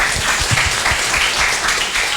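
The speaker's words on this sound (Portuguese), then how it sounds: "Uma salva de palmas." Applause from a lecture audience during a talk on fiscal bookkeeping, a short, dense burst of many hands clapping, fairly loud and close throughout.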